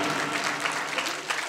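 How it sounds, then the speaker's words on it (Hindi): Audience members at an All India mushaira poetry gathering clap in a fairly soft, continuous patter, a modest round of applause heard from a distance with no voices over it. "एक बार दरखास्त है जोरदार तालियां बजा दीजिए जनाब मुमताज साहब के लिए"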